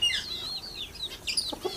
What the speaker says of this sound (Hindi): ये न्यू बंटम का मुर्गा है